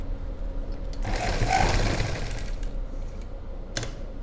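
A sewing machine runs in a short burst, stitching the lining into a blouse, giving a soft, fast mechanical whir that swells and then fades, with a faint click near the end.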